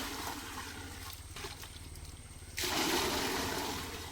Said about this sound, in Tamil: தண்ணி ஊற்றி கலக்கிறேன்.